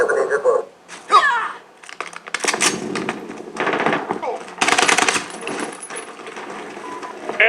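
Call of Duty: Modern Warfare gunfire on PS4 heard through a headset, with quick clattering bursts of automatic fire and sharp cracks. Shouted in-game voice callouts mix in among the shots.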